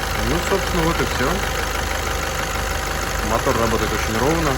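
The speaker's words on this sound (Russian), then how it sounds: "Мотор работает очень ровно." A freshly repaired 4D20 diesel engine idles evenly and close by with a steady low rumble and knock, while someone talks over it throughout.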